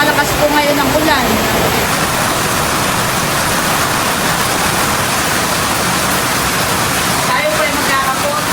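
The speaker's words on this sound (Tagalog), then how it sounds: "Eh grabe naman po, napakalakas po ngayon ng ulan." Heavy rain pours down steadily near a fish pond, a dense loud hiss that stays constant throughout, with no voices standing out above it.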